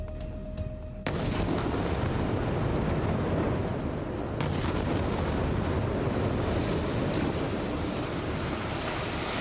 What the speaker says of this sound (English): The severely damaged buildings, evacuated after the February 6th earthquake, collapsed in just a few seconds following simultaneous explosions